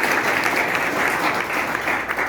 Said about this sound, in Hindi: तीनों सर के लिए जोरदार ताली बजाएं।